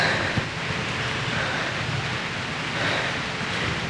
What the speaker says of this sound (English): it's pouring. Pouring down rain.